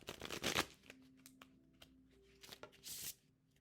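Tarot cards riffle and shuffle in quick papery bursts, close and quiet, separated by brief pauses and soft handling clicks, with no talking.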